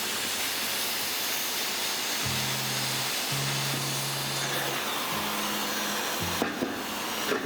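Steel H-beam being cut to size at a building reinforcement site, a continuous loud hissing roar like a torch or cutter running throughout, with low droning tones rising and falling underneath.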